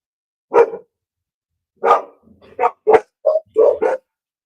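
A dog barks several times nearby, a single bark followed after a pause by a quick run of sharp barks, with quiet between them.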